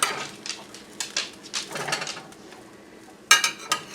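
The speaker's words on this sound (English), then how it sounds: "I'm just going to take a spatula, and we're going to flip these over just like that" Metal spatula flipping parmesan crusted chicken pieces in a pan: a few scraping clinks and taps spread over a few seconds, ending in a sharper metallic clatter, with no talk.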